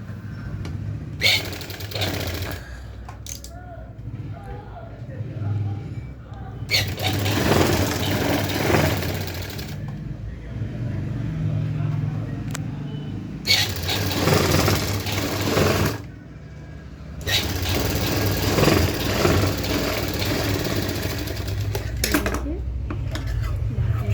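A sewing machine stitches the border of a designer blouse in a boutique, with several loud whirring runs of rapid needle clatter separated by short pauses and a few clicks of handling.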